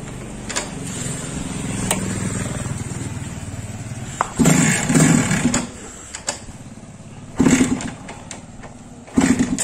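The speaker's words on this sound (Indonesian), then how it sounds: "Nah, ini motornya nih. Kita cobain langsung sama Bang Rusman. Gimana bunyinya?" A Suzuki Satria 120 R motorcycle with a TM24 carburetor, not started since the day before, revs in uneven bursts over a rough, sputtering idle, loud and close.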